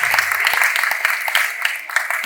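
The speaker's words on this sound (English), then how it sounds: "Round of applause, ladies and gentlemen, for our incredible speaker" An audience claps for a speaker at an entrepreneurship event, with sharp, distinct hand claps over a broad crowd ovation and a faint voice near the start.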